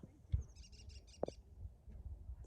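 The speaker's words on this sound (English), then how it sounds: "I could hear a bird." Faint bird calls repeat in a quick chirping series from trees along a hiking trail on the Stanford Dish, distant and soft over outdoor rumble, with a few brief thuds nearby.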